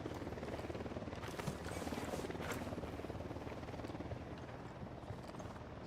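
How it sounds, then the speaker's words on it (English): Helicopter in the video game Ghost Recon Wildlands, a steady rotor thump and turbine roar throughout, fairly quiet and continuous under dense game noise. "Helicopter, get down."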